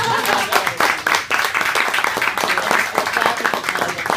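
At the close of a mental health practice meeting, a small group claps for about four seconds, a dense run of hand claps that is steady and fairly loud.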